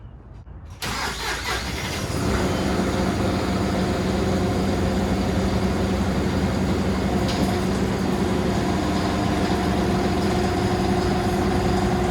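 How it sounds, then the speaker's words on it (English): A John Deere 5075E tractor engine cranks and catches, then settles into a steady, loud, rumbling idle that continues without a break. "I'm gonna start by getting the tractor fired up"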